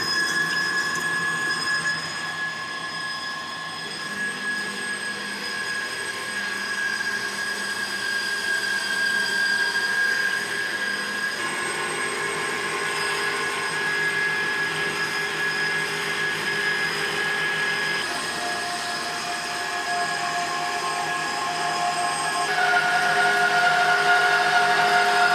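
A Hyd-Mech saw cuts through 1.5 inch wall steel tube in a workshop, a continuous steady grinding whine with a high ringing tone, close and fairly loud, with no talking.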